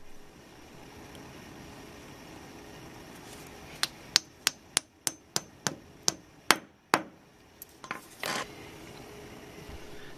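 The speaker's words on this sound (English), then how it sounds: "Then tap the blue plastic cement anchors into the floor holes." A hammer taps blue plastic cement anchors into holes drilled in a floor, giving about ten crisp, evenly spaced knocks close by, followed by a brief scraping rustle over a quiet background hum.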